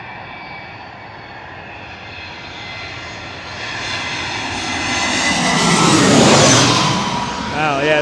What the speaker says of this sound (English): Oh, yeah, those Rolls-Royce engines